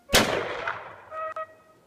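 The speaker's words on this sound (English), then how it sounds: "you guys heard 2 gunshots and then another one" Two sharp rifle shots from a semi-automatic AR during a hog hunt, the first a loud crack with a long outdoor echo, followed by a second quick report about a second later, no talking.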